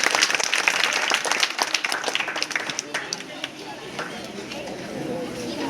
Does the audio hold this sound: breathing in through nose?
no